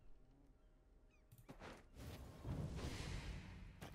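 Birds being killed in the Gwent card game: faint, brief goose-like honks and squawks with soft swooshes, quiet and short.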